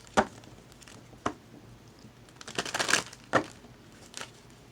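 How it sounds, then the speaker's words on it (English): A tarot deck being shuffled by hand, with crisp card riffles and slaps in separate bursts: sharp snaps near the start and middle, a longer rustling run after that, and a softer one near the end, close up and alone. "Okay, shuffle. You want me to shuffle?"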